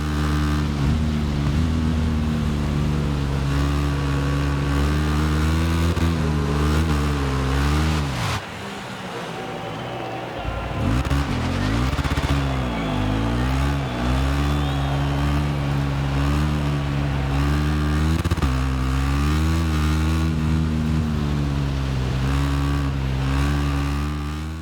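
Scooter engine in the motorcycle racing game RIDE 6, a steady droning motor held loud and close for the whole stretch, dipping briefly midway before revving back up to a continuous buzzing whine.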